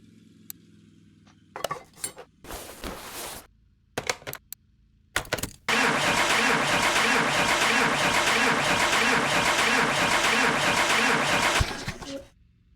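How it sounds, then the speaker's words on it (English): A car's engine cranks without catching in a mechanic simulator game: brief clicks and short bursts first, then a long, steady, even cranking drone that runs for about six seconds before cutting off, with no speech. "Oh, we got a crank, but we got no start."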